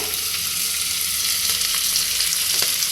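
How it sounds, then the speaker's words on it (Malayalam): Onions sautéing in a pan for sambar give a steady, close sizzle throughout, with a few soft stirring scrapes and ticks breaking through the continuous frying hiss. "കണ്ടോ ഉള്ളി ഇങ്ങനെ വഴറ്റിക്കൊണ്ടിരിക്കുന്നു"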